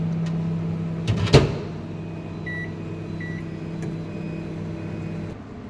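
A microwave oven heating tea hums steadily up close, with a thud of the door or a knock early on and a few short electronic beeps partway through.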